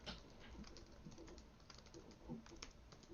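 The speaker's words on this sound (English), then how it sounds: "it's a lot to type in" Rapid typing on a computer keyboard while entering whiskey tasting notes: a quiet, steady clatter of many close keystrokes, with no voices.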